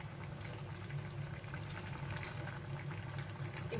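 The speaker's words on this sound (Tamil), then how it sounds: "இப்போ பாருங்க நல்லா கொதிச்சிட்டு இருக்கு" Green peas kurma with carrot bubbling steadily in a pot, a soft continuous simmering burble close by with no talking.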